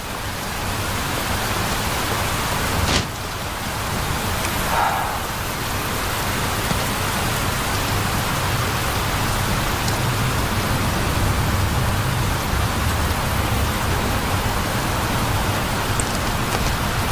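Steady rain falls across an outdoor scene as a dense, even hiss that runs unbroken throughout. A brief louder splash or gust comes early on, and no one speaks.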